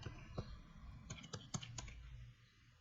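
Admin username and password typed on a computer keyboard, a short run of crisp separate keystrokes, close and fairly quiet, with a few sharper clicks and no talking.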